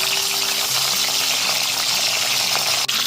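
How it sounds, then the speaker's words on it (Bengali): A fish head, coated in turmeric, fries in hot oil in a pan over a high gas flame, giving a loud, continuous, close sizzle with faint stirring noises throughout. "গ্যাসের ফ্লেমটা হাইতে করে মাছের মাথাটা এপিট ওপিট করে লাল করে ভেজে নেব"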